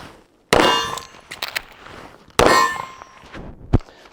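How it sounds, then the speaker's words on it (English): A pistol magazine drops out after the mag release is pressed, giving two sharp metallic clangs with ringing tails and then a final hard knock, close and loud. "you just tap this one and the mag falls out"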